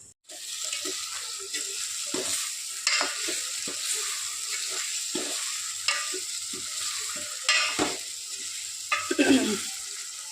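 Masala-coated chicken pieces frying in a pan, a continuous close sizzle with intermittent stirring scrapes and spoon knocks, moderately loud, no voices.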